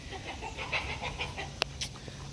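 Roosters crowing on a rural Western Kentucky property, faint and distant under steady outdoor background noise, with one brief sharp click partway through.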